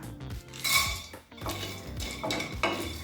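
A quarter cup of peanuts is dry-roasted in a pan for peanut chutney. A spatula clatters and scrapes against the metal in quick, uneven bursts, close and clear, with no voices.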